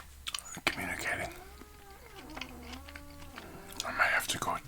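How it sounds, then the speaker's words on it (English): A house cat and a dog vocalize back and forth indoors, drawn-out wavering cries that rise and fall over several seconds, fairly soft and close against a quiet room. "The cat and the dog are communicating."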